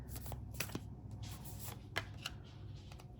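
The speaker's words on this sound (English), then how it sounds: "let's draw a couple more cards from this deck" Tarot cards are shuffled and slid from a deck during a reading, a soft continuous papery riffling with a few sharper flicks, close and quiet against a low background hum.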